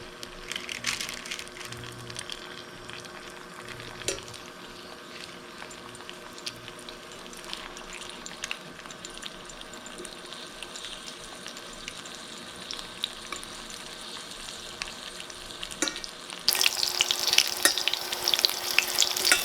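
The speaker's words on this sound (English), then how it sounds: "Spread oil over a pan and fry them at a low heat." Sausage and rice-cake sticks fry over low heat in an oiled pan, giving a steady close sizzle with scattered pops and spatters that grow louder and brighter toward the end.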